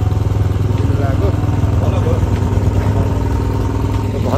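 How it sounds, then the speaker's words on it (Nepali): A Pulsar 220 motorcycle engine runs steadily and loudly throughout with a deep, even drone, on a ride in rural Rukum, with faint voices in the background. "बाइक स्टार्ट गरिसकेको छ"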